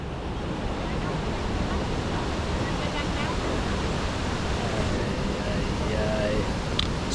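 Steady rushing water from a river approaching a hidden waterfall in a Costa Rica jungle gorge, a continuous broadband roar filling the whole clip with faint voices mixed in.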